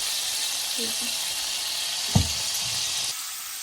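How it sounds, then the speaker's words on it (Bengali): Shrimp fry in a pan with a steady, close hiss of sizzling oil, one brief clink of utensil against pan, and the sizzle drops in intensity near the end as someone speaks faintly in the background. "চিংড়ি মাছ আগে এখানে একটু ভেজে নিই"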